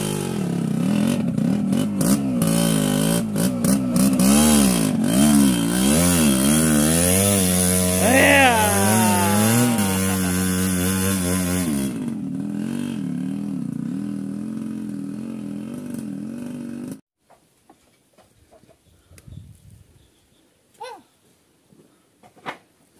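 An off-road all-terrain motorcycle engine roars loudly and close, its pitch swinging up and down through repeated revs before settling into a steady idle and then cutting out, leaving faint scattered noises.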